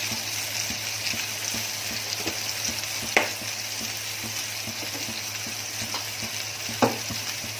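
Asafoetida and curry leaves sizzle steadily in hot oil for a potato and spinach dish, a continuous frying hiss with soft crackles and two brief sharper pops, close and alone.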